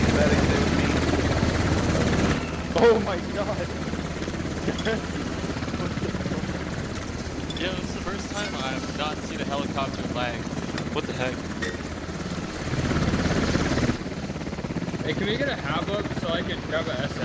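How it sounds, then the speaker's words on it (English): Helicopter flying nearby in the Squad video game on the Gorodok map, a steady rotor thrum and engine drone running throughout, with players talking over it. "Heli's to the left."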